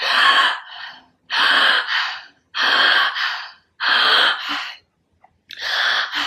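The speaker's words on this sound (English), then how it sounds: "it's that inhale just like that 30 times" Rapid, deep inhales in a breathwork demonstration: a close, loud, forceful breath repeated about once a second, each a rushing pull of air with a brief pause between, with no talking.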